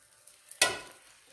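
An omelette sizzles in a pan on low heat as it is covered. A sharp burst of frying hiss flares suddenly, then fades gradually over about half a second. The pan is otherwise quiet, with no talking.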